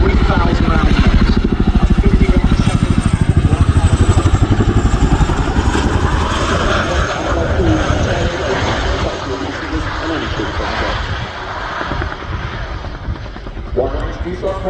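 A Chinook helicopter flies in an air display at RIAT 2025, RAF Fairford, its loud, heavy rotor and engine roar filling the whole stretch with a steady chopping throb, under commentary over a public address.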